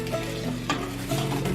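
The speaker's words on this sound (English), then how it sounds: "Constantly stir until you bring it to a boil." A spoon stirs a pot of jelly mixture heating toward a boil on the stove, giving soft scraping and swishing strokes over a steady bubbling sizzle, close and moderately loud.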